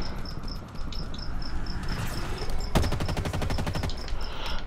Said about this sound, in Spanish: Le disparo al aire